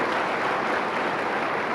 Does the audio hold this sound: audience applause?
yes